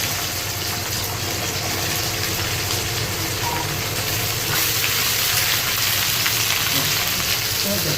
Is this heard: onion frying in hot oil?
yes